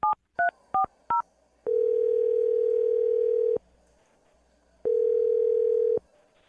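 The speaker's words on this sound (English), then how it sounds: "I'm going to dial his phone number now" A telephone number is dialed as four quick keypad tones, followed by two long steady ringback tones separated by a pause.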